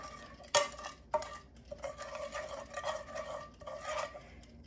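Butter being mixed in a bowl: close, uneven scraping and clinking of a utensil against the bowl, with a few sharp taps between stretches of rhythmic stirring.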